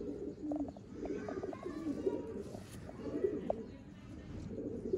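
Pigeons coo softly in repeated low, throaty phrases close by, with a faint flutter and faint background noise throughout.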